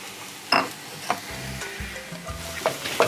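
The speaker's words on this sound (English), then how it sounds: "When you can see here, it is sizzling properly." Finely chopped shiitake mushrooms sizzle in hot oil in a pan for mushroom fried rice, with a steady close frying hiss broken by several sharp clatters and scrapes of stirring, and no voices.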